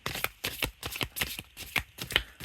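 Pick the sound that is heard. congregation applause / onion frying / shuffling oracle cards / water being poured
shuffling oracle cards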